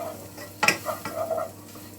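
Spices sizzle briefly in a hot pan while a spoon stirs and scrapes, with a sharp clatter near the start and soft frying hiss beneath.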